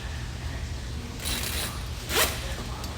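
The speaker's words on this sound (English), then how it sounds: "Makes it easier for the zipper to engage." A zipper runs closed along Key West 219FS/239FS factory boat canvas in two quick, close rasping pulls, one longer and one shorter, with steady low background noise.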